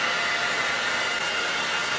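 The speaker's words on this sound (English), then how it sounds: "I don't know what it is about this hair dryer, but I swear it dries my hair faster than anything else" A hair dryer blows with a continuous, loud, airy roar that holds steady throughout.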